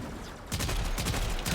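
Video game weapon firing two-round bursts with a fancy muzzle flash, loud sharp shots repeating in quick pairs after a short quiet start.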